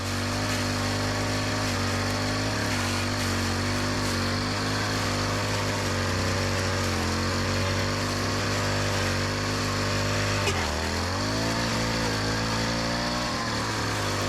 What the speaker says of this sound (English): First, trimming around this rubble.